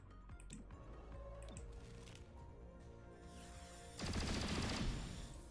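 A sudden loud burst of rapid automatic gunfire from a squad soldier in the tactical game XCOM Chimera Squad, erupting late after quieter ambient game sounds and fading out over about a second.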